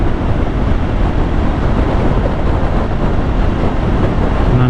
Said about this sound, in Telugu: అమ్మ ఘోరంగా ఉంది విండ్ బ్లాస్ట్